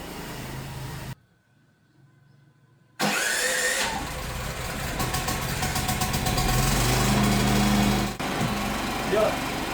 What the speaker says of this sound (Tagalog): dapat automatic na mabubuhay yung ating generator at siya naman yung magsusupply sa ating bahay